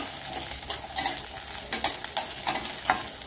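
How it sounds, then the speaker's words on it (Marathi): Garlic and ginger sauté in a hot pan for stuffed masala brinjal, a steady close sizzle of oil broken by scraping stirs every half second or so, with no voices. "आलं लसूण थोडं लाल होईपर्यंत परतायचं।"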